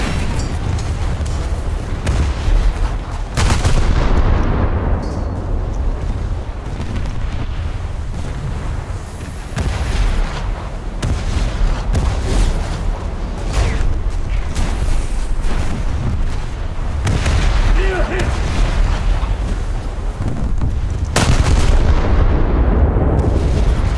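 The Marlborough battleship's 13.5-inch guns firing in a naval battle video game, a dense run of loud, heavy booms and rumbling blasts one after another, filling the whole stretch with no talk.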